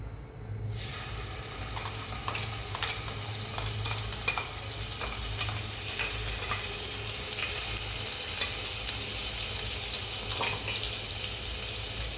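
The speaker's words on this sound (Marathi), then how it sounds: "मिरची थोडीशी तेलावरती परतून घ्यायची" Green chillies frying in hot oil for batata alu vadi, a steady, dense sizzle and crackle that holds evenly close up, with faint stirring clicks and no talk.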